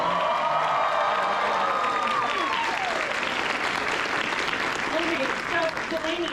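A convention panel audience fills a hall with loud, sustained applause and scattered cheers and whoops, a dense crowd roar that holds steady throughout.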